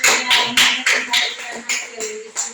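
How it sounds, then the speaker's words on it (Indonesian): A classroom of vocational high school students applauding after a group discussion, a burst of overlapping hand claps in several loud rhythmic waves that rise and fade, with no talk over them. "mari kita beri tepuk tangan untuk"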